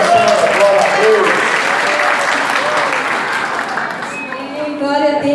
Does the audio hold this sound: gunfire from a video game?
no